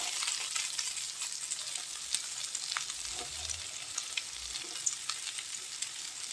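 Meat fries in a pan with onion and carrot, giving a steady, fairly soft crackling sizzle dotted with small pops and faint low stirring thumps, and no talking.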